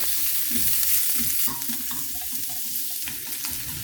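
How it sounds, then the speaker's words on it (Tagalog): Ginger, onion and garlic sautéing in a pan, a steady close sizzle with stirring and scraping taps running throughout, no voices. "magisa tayo ng luya, sibuyas at bawang"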